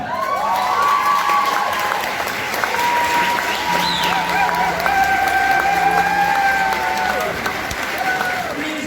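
An audience at a Miss Supranational Namibia 2020 pageant bursts into loud, sustained applause with cheering and shouts throughout, a dense crowd roar filling the whole stretch.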